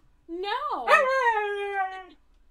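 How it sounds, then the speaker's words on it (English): A dog lets out a single close, drawn-out whimpering howl that rises, wavers and fades over about two seconds in an otherwise quiet room. "Stop torturing that dog."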